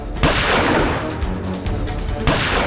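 Gunfire from a handgun fired by someone on a motorcycle, a loud sharp report at the start and another near the end over a dense, sustained dramatic background.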